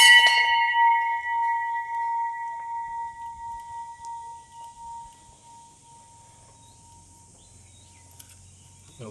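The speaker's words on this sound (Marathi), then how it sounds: "घंटा वाजवत आहे" A temple bell at Gangeshwar temple in Devgad struck once, a bright metallic clang ringing out and slowly decaying over several seconds in a quiet interior, with a faint click near the end.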